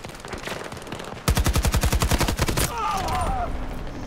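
An AK rifle fitted with a drum magazine fires in Battlefield 2042: a loud, close burst of about a dozen rapid, evenly spaced shots rises out of game background noise and then gives way to a softer rumble.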